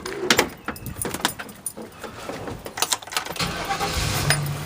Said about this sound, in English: We're going to open the door and turn on the ignition.